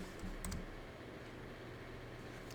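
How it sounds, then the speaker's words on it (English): A few quick, faint keystrokes on a computer keyboard cluster near the start, then soft background hiss in a quiet room. "I start typing the name."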